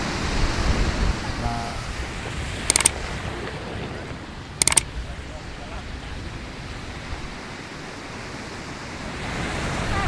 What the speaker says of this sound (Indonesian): Nggak bisa ke tengah soalnya ombaknya besar sekali.